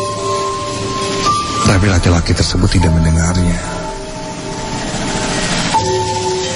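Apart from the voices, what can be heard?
speeding train, sound effect in a narrated story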